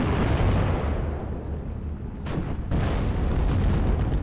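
A 57mm anti-tank gun firing at a StuG assault gun in the WWII strategy game Steel Division: Normandy 44, heard as heavy booming blasts and rumbling battle noise that run continuously, loud with a sharper crack midway.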